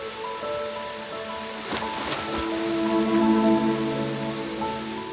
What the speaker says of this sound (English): Our trail is going through the waterfall